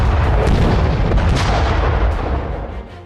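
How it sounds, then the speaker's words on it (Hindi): Loud, continuous explosions during a Pakistani military exercise a few kilometres from the Attari border, a dense rumbling barrage of booms that gradually fades over a few seconds. "बारूद फट रहे हैं।"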